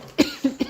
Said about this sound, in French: je tousse encore du Covid